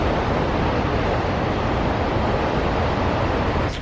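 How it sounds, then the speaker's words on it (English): Huge ocean waves after a storm roll and crash as a continuous, loud wash of surf noise, dense and unbroken, with wind buffeting throughout and no voices. "we just had a storm pass through, so the waves are huge"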